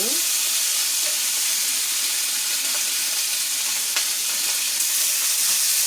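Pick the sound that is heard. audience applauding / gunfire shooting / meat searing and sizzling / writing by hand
meat searing and sizzling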